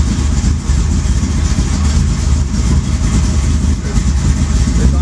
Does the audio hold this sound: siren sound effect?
no